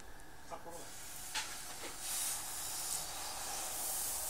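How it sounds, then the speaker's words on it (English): Milk hissing and sizzling as it burns in a Stonedine frying pan, a steady soft hiss that swells and crackles, with faint voices now and then. "we gotta pour some milk in and walk away and let it burn."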